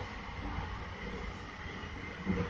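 A SkyTrain car rolls along the Evergreen Line, giving a quiet, steady interior rumble and hum with a slightly louder thump near the end.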